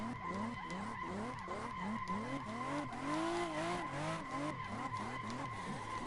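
Car tires skidding and squealing in a drifting simulator game, a continuous wavering screech rising and falling in quick repeated sweeps over a low engine drone, loud and close.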